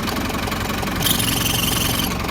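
A Mahindra Jeep engine runs steadily close by, its turbo adding a high whistle that rises partway through and fades near the end over a constant mechanical drone.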